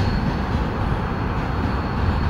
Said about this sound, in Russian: Это вот уже зерновозы конкретные. Два зерновоза.